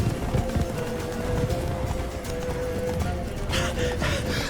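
In The Witcher 3, the horse gallops in a steady rhythm of hoofbeats under a constant background hum, with a brief burst of louder noise near the end.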